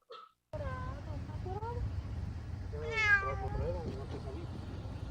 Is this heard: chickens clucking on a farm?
no